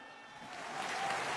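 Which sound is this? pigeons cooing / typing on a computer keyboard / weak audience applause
weak audience applause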